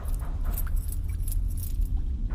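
Keys jangle in a horror walking-simulator game, a steady metallic jingling with several bright bursts over a low rumbling ambience, fairly close.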